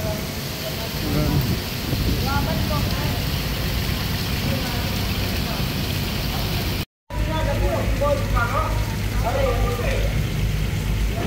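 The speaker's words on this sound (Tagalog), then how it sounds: "Lumakas yung ulan." Heavy rain pours steadily by the Pasig River with a dense hiss, low rumbling underneath; faint voices are heard briefly, and the sound cuts out momentarily partway through.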